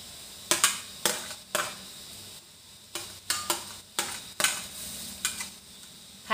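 Gourd being stir-fried in a pan, with a soft steady sizzle broken by about a dozen sharp scraping clinks of a spatula against the metal, coming in irregular bursts up close.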